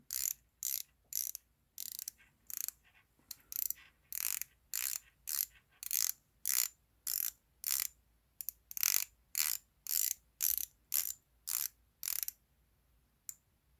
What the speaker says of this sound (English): So the Pagani actually comes with a 90-click unidirectional bezel.